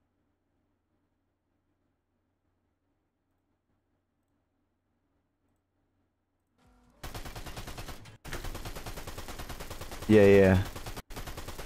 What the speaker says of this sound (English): At one point, my gun started shooting